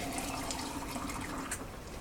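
Water splashes and trickles steadily into an electric pressure cooker pot over spaghetti noodles, a continuous liquid pour lasting a couple of seconds at close range.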